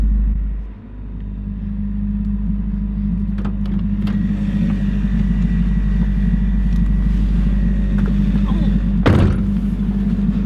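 A Toyota MR2 does donuts, a low steady engine rumble that persists throughout with a brief sharp thump near the end, people talking faintly over it.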